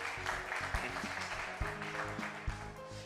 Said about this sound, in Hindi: तालियां लगातार बजती रहनी चाहिए।